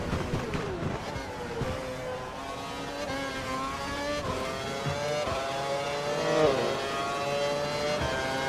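A Formula 1 race car engine at the Bahrain circuit in the F1 2012 video game, giving a close, steady high-pitched scream that climbs in pitch through the gears and dips briefly, loud and continuous.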